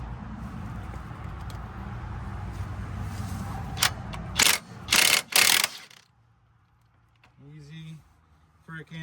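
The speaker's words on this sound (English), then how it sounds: "Luckily with the wheel turned, you can get the impact in there," An impact wrench loosens crusty 18mm front brake caliper bracket bolts on a Yukon/Suburban/Escalade, with several loud, sharp hammering bursts after a stretch of low mechanical noise, and a person talks briefly afterward.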